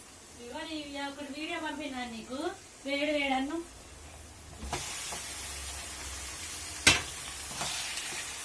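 Raw chicken tipped into hot oil over softened onions for a home-style chicken fry erupts into a steady broadband sizzle with a sharp crackle, after someone speaks briefly.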